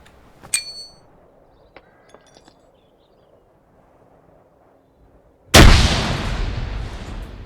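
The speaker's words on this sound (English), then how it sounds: "you hear the pin being pulled and the trigger being let go of" In ArmA 3 with the JSRS sound mod, a sharp metallic click of a grenade pin and lever and a few faint clinks, then quiet before a loud, booming explosion that rumbles and slowly fades.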